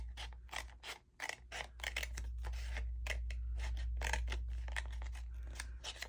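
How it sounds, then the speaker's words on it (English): Rapid, crisp snips of scissors cutting paper, repeated in quick rhythmic bursts, close up over a low steady hum. "I want my scissors, and I could cut this to size"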